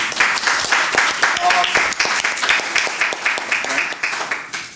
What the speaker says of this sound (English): let's give your mom and dad a round of applause too as well.